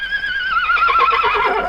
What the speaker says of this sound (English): He is a bit of a lively horse, isn't he?